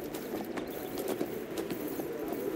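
Horse hooves clip-clop steadily in a fantasy video game, a soft, even rhythm of steps over a constant ambient background.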